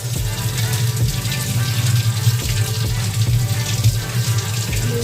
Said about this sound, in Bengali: বেগুনটাকে একটু ভালো করে ধুয়ে নিই।